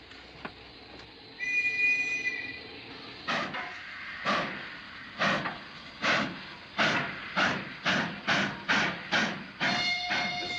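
A steam train rolls along in the 1940s Sherlock Holmes film Terror by Night, a whistle sounding early on, then a steady rhythm of loud, regularly spaced chuffs or wheel beats building in pace, with another whistle near the end.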